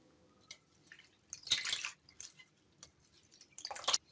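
Water dripping and trickling from washed mint leaves set in a strainer after a turmeric-water rinse, coming as a few soft close drips and two brighter splashy bursts against a quiet kitchen background.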